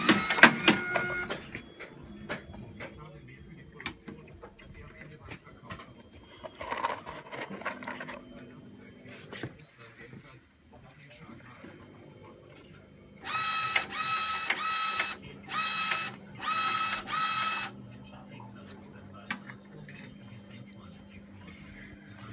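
A LAB400 labeller with a Zebra ZE500 printer applies adhesive labels to SD cards, giving steady mechanical whirring with a few louder bursts of rapid machine clatter near the end.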